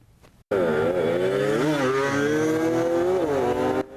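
A high-pitched engine from street racing cars and motorcycles on a riverside embankment road revs hard and holds a loud, wavering whine for several seconds, rising and falling in pitch before cutting off abruptly.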